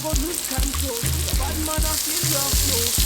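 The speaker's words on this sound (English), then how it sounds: "Now I'm gonna add my onion and my garlic until they're nice and translucent." Onion and garlic sautéing in a pan for collard greens with bacon, a steady close sizzle with rhythmic tonal thumps and musical notes running over it throughout, no speech.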